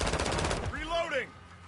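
Rapid automatic gunfire rattles in Modern Warfare 2, a fast burst of closely spaced shots that stops abruptly, followed by a brief game voice.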